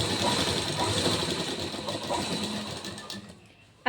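Sewing machine stitching along a half-inch folded waist strip for a princess-cut blouse, running as a steady fast mechanical whir that stops abruptly near the end.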